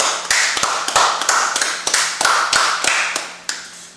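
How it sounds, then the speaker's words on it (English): Crowd of people clapping in unison at a men's brotherhood class in Harlem, a steady run of about a dozen sharp, loud claps in an even rhythm. "Clap it up."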